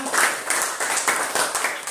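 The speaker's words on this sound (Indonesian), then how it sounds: "Bagus sekali, tepuk tangan untuk Kania." Classroom applause for a student named Kania, a short burst of children clapping in uneven, choppy waves, fairly close and lively, with faint voices mixed in.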